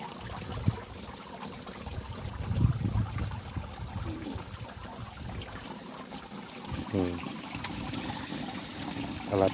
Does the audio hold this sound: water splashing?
yes